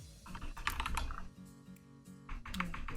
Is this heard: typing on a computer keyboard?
yes